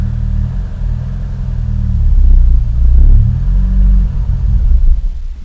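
A car engine idles after a cold start, a loud, close, low rumble that swells and settles without talk, as if barely held running on little fuel.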